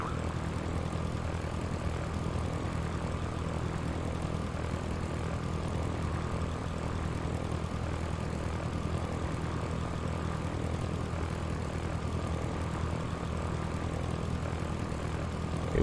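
Steady drone of a Cessna propeller aircraft engine in flight, simulated in a flight game, a constant loud hum with low harmonic tones holding unchanged throughout, no voices.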